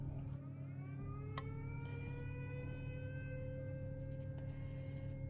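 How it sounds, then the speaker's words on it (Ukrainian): A wailing air raid siren drones steadily in the distance, its rising and falling tone sustained throughout with no voices. "І тут повітряна тривога"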